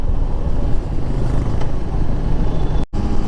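A small motorcycle ridden on a foggy winter night, its engine giving a steady, close rumble with wind noise throughout and one brief dropout near the end.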